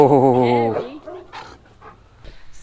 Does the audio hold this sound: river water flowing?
no